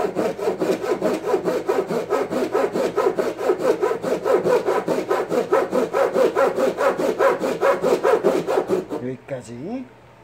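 A saw cuts through wood in quick, even back-and-forth strokes, close and steady for about nine seconds before stopping.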